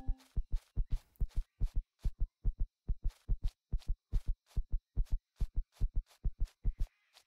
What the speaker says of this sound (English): I don't want to hear that heartbeat thing anymore.